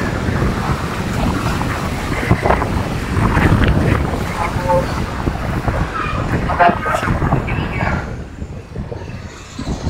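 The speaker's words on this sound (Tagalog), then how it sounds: "Sobrang lakas po ng hangin mga boss." Loud wind buffets and roars against the microphone throughout, with sea or surf noise underneath and occasional voices mixed in.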